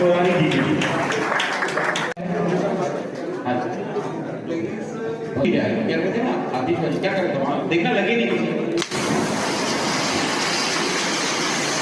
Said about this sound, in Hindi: भाई तालियां हो जाओ सब